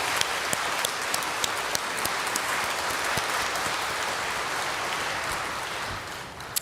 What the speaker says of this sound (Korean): 특별한 마음으로 감사하는 마음으로 박수 한번 드릴까요?